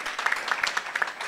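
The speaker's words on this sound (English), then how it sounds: "And I think you need a round of applause for yourselves." Applause from an audience at a university research week gathering, with a modest, steady patter of clapping that sounds somewhat distant and fairly light.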